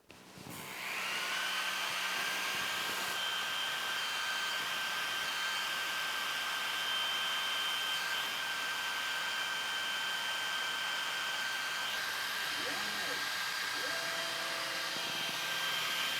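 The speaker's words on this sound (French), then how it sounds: "j'aimerais que le laser ne passe qu'une seule fois" A Creality Falcon 2 40W laser makes a single pass cutting through wood, with a steady, loud fan-like rush and a thin high whine that run unbroken for the whole stretch.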